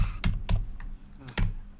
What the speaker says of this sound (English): My embarrassingly loud keyboard.